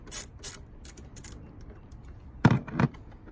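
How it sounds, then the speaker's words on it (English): A wrench undoes the nut on a car battery's negative terminal, giving a few short, close metallic ratcheting clicks in scattered bursts, with a louder double rattle near the end. "we're just gonna undo that nut on top of the negative terminal"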